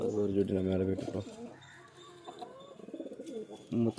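Pigeons coo in low, repeated throaty phrases at a home loft, a steady pair of calls near the start, then softer chirps and faint bird sounds with a voice briefly talking over them.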